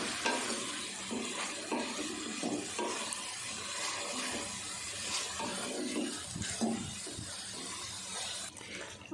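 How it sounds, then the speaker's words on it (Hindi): Minced beef and potatoes with whole spices sizzle and fry in a pan, with a steady hiss and repeated scraping stirs throughout, close up. "आलू और कीमे को भी हमने अच्छे से भून लिया।"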